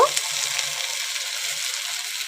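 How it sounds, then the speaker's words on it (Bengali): Taro and potato frying in a pan with tomato and onion, a steady bright sizzle with a few faint low bumps from the pan. "এর মধ্যে দিয়ে দেবো গাঁটি কচু আর আলুটা"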